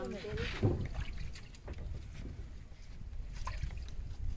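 A small boat out on a river near Ulipur on the way to Thetrai union, with steady wind and water washing under nearby voices.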